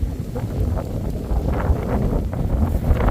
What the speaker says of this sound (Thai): วันนี้ลมแรงไปหน่อยเนี่ย